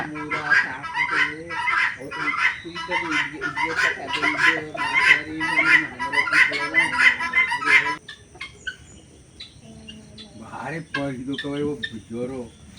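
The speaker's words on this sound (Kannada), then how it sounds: "ಇಲ್ಲಿ ಒಂದು ನಾಲ್ಕೈದು ರೀತಿ ಕೋಳಿಗಳನ್ನ ಸಾಕಿದ್ದಾರೆ" Several breeds of chickens and roosters kept on a farm cluck and call in dense, repeated bursts, with people talking nearby throughout.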